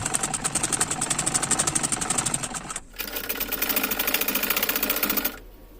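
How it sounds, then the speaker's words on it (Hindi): A sewing machine runs close up while stitching a half-collar blouse, giving a rapid rhythmic chatter in two bursts separated by a brief pause before it stops. "यहाँ से हमको सिलाई लगाते जाना है।"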